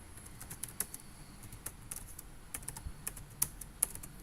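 Quiet, irregular clicking of keys on a computer keyboard, a soft steady patter of individual keystrokes in a calm room.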